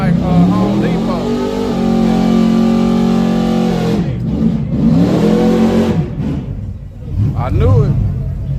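A truck engine drones and revs with rising and falling pitch, close by and loud, while someone talks over it.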